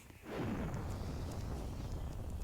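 Bomb explosion in the video game Domspire, a loud low boom that swells quickly and then rumbles on steadily for a couple of seconds.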